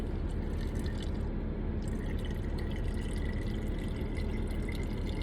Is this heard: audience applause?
no